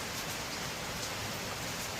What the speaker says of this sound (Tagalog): lagi na lang ang ulan